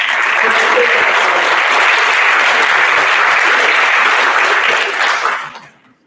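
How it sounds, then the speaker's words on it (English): An audience at a board of education public session applauds loudly and continuously for about five seconds before the clapping fades out. "Please give yourselves a round of applause."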